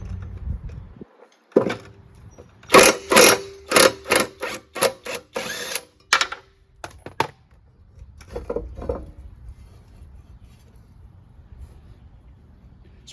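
A half-inch impact wrench takes the blades off a Craftsman LT2500 riding mower: a loud burst of rapid hammering rattles, a pause, then a few shorter bursts, close up in a quiet space.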